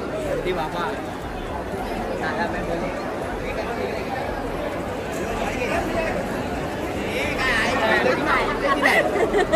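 Dense crowd chatter fills a busy Siddhivinayak temple in Mumbai on Diwali Padwa, a steady, loud hubbub of many overlapping voices with shuffling movement, close and continuous, swelling slightly toward the end.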